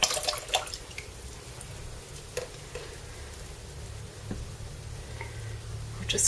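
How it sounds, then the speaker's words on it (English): Small acrylic paint dabber cap swished and rinsed in a jar of watercolour water, giving soft sloshing and dripping sounds with a few brief clinks, close by and fairly quiet. "I'll just rinse that in my watercolour water."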